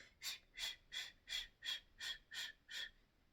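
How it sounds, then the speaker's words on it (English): Eight evenly spaced, breathy exhalations through pursed lips, each a soft hiss about half a second apart, close and steady with no talking. "I started doing this pursed breathing"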